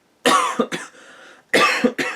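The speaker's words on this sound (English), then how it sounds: "I'm still trying to get over a cough here" A few harsh, close coughs from a person recovering from a cold, in two bursts separated by a short raspy breath, loud against near silence.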